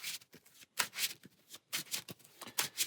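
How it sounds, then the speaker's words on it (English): Cards from the APEX Theropod deck-building game are riffle-shuffled close up in quick bursts, several short flurries of crisp paper flutter separated by brief pauses, fairly quiet and with no voices. "So I've got those cards collected and put in here to be shuffled."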